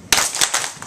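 A class of students claps twice in unison, two sharp crisp bursts of many hands close together, followed by a few scattered late claps trailing off.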